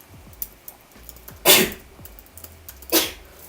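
Two quick sneezes come close and loud, about a second and a half apart, over a quiet background with faint clicks.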